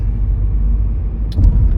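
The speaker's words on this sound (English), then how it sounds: "Yeah, we're just driving." Car driving on the road, a steady loud low rumble of engine and road noise from inside the vehicle, with a couple of brief faint high clicks near the end.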